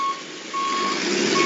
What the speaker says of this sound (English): this might just sound like a shrill beep, but this, mate, this is sweet music.